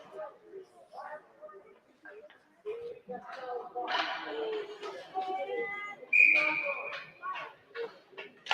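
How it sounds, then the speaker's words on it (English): During a 14U youth ice hockey game, a referee blows one short, shrill offside whistle blast partway through, while a commentator talks over faint rink noise. "Offsides whistle there."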